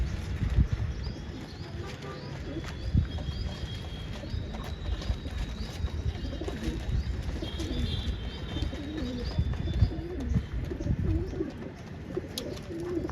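Pigeons coo in low, soft, repeated calls close by, mixed with shuffling, faint chirps and light tapping sounds.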